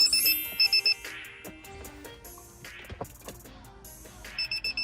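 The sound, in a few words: in-car baby reminder alarm beeping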